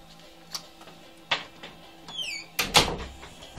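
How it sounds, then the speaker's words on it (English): A door being shut indoors: a few scattered knocks and rattles lead to a louder, close double thud near the end, with a brief electronic chirp just before it. "just let me close the door."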